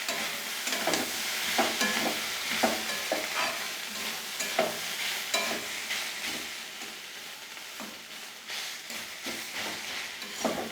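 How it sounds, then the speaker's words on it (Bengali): Sliced spiny gourd (kakrol) frying with coconut in a pan, stirred after the lid is lifted: steady loud sizzling with repeated scraping strokes of the spatula throughout. "আমি মাঝখান দিয়ে একবার ঢাকনা তুলে নাড়াচাড়া করে দিয়েছি আবারও আমি একটু নাড়াচাড়া দিতে আসলাম"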